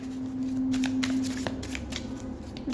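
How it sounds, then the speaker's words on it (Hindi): Tarot cards are shuffled and handled for a three-card draw, giving a steady papery riffle and flutter with a few sharper slaps. A constant low electrical hum runs underneath, and no one speaks. "यहाँ से मैं 3 कार्ड लूँगी गाइज।"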